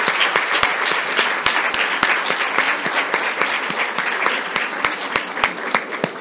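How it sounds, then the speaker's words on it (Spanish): Sustained applause from an audience for a doctor after a lecture on the new civil and commercial code, dense clapping with a few sharp, close individual claps standing out throughout. "Le vamos a brindar un aplauso al doctor Daniel Jorge Bracaloni."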